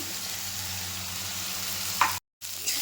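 Masala goes into an egg curry in a hot pan, a constant close sizzle with a brief stirring clatter near the end, a short cut to silence, then the frying resumes.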